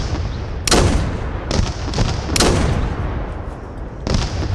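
Heavy mortar fire pounds in the Dagger Directive video game, a series of loud, broad blasts spaced irregularly about a second apart, each trailing into rumbling noise, with no talk over it.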